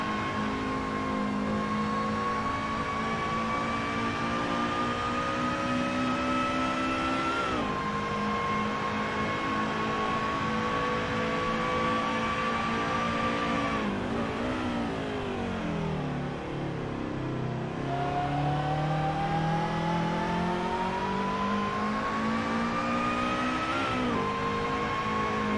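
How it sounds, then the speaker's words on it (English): A race car engine at a Saturday speed night on a track revs steadily for about 26 seconds with lights on, rising and falling in pitch as it works through the gears, loud and continuous with no talk. "He's looking for the power band of the car,"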